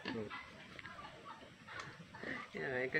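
A hen meant to be kept as a laying hen clucks in short, close bursts, with people talking around it.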